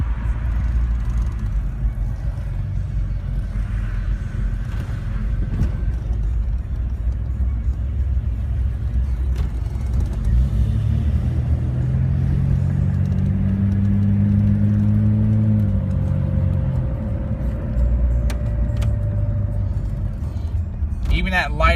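The engine of a lifted, stage 3+ built Jeep Cherokee Sport accelerates lightly, a low steady rumble whose pitch climbs gently, heard from inside the vehicle with faint clicks near the end.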